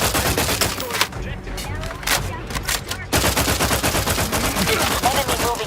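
Dense automatic gunfire in The Outer Worlds 2 rattles almost continuously, with rapid overlapping shots, a short lull partway through, then renewed heavy firing, loud and close throughout.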